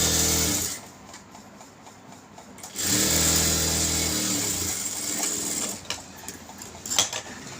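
A sewing machine stitches an elastic nightie seam in two bursts of rapid mechanical whirring, separated by a short pause, heard close and alone.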